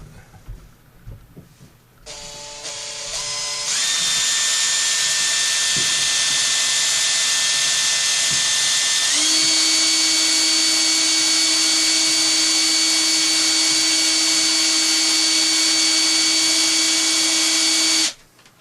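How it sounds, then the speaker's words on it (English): An electric drill with a slightly dull bit spins up and runs continuously with a loud high whine, its pitch shifting partway through as it bores a lanyard hole in a firesteel handle, then stops abruptly. "What I want to do now is drill my lanyard hole."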